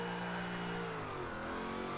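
During a drift power slide, the car's engine revs high and steady while the rear wheels spin, a loud, close, continuous roar whose pitch slides slightly downward, with no voices.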